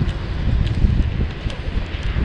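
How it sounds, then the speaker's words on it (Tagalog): Strong wind roars at night as a steady low rumble of gusts buffeting the microphone, with faint rustling on top and no talk. "Lakas ng hangin!"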